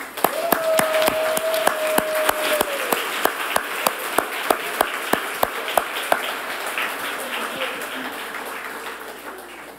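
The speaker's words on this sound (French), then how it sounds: "S'il vous plaît, une bonne main d'applaudissements." An audience applauding at a community event, steady clapping from many hands with a few sharp, close, evenly spaced claps standing out, and a brief voice or tone early on.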